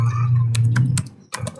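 Keys tapped on a computer keyboard, a quick run of separate clicks over a low steady hum, a brief pause, then a few more keystrokes.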